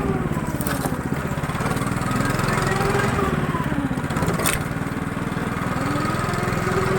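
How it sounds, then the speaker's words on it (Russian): A vehicle engine drones steadily as it creeps over bumps and branches on a taiga forest trail, loud and close, with rattles and knocks from the rough ground and no talk. "Вот потихонечку газ давлю по всем этим кочкам,"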